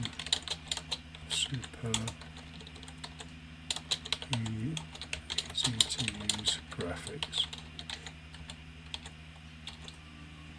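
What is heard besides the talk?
typing on a computer keyboard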